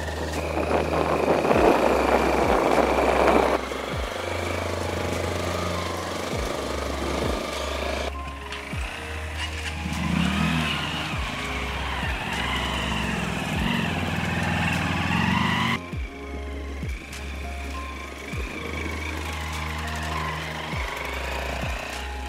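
A Honda XR 190L motorcycle carrying two riders on an off-road trail, its engine droning steadily and continuously for the whole stretch, rising and falling slightly with throttle, loud and close with no talk.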